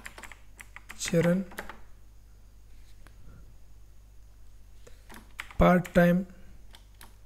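Close typing on a computer keyboard comes in quick bursts of light clicking, with brief spoken phrases between and over the keystrokes in a quiet room.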